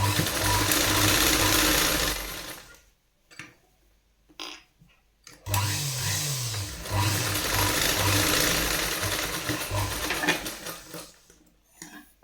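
Sewing machine stitching tucks on a blouse, rapid rhythmic clattering in bursts with short pauses between runs, close and moderately loud.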